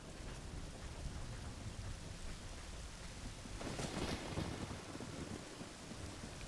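A thunderstorm in the video game Ocarina of Time gives steady rain and rumbling wind, with a louder burst of thunder partway through, heard faintly and without voices.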